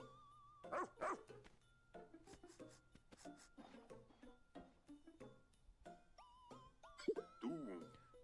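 A pup character in the Pikmin 4 video game sniffs and barks in short bursts, with yips and game sound effects and chimes scattered around it, at a moderate level and with no talk.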